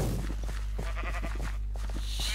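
Several Minecraft sheep bleat in quick, overlapping wavering calls over a constant low hum during a survival games match, loud and near.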